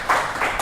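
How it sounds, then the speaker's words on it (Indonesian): A brief round of clapping from a classroom of students for a classmate, a couple of quick swells of hands that end abruptly. "Berikan tepuk tangan untuk Mbak Afifa"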